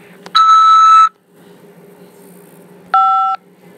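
Phone keypad tones sound when 5 is pressed to accept a collect call from a Nebraska prison: a loud beep, a pause, then a second shorter dual-tone beep.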